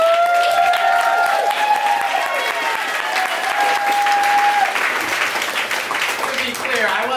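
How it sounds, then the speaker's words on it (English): Theater audience applauding a comedy show, loud sustained clapping with cheers and a long whistle riding over it, voices mixed into the crowd noise throughout. "She just got a round of applause at the beginning"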